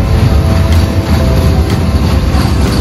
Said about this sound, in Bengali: ট্রেনে উঠে পড়ছে এখন